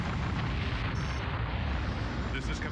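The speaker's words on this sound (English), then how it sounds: "Catastrophic explosion loop." Spaceship blowing up in the space combat game Colony Wars, a sustained loud rumbling blast with a dense roar that fills the whole clip without a break.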